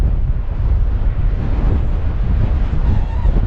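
Strong, steady wind buffets the microphone on an exposed ridge at Wild Horse Wind Farm on Whiskey Dick Mountain, a loud continuous low roar with no voices.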